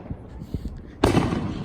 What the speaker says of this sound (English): Crazy fireworks again. That one was a loud banging one.